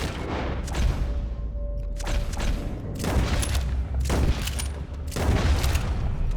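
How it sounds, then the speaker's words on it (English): Heavy gunfire in a Red Dead Redemption 2 shootout at Cornwall, volleys of rapid overlapping shots in several bursts separated by short lulls, loud and continuous across the scene. "Anybody else shooting at us?"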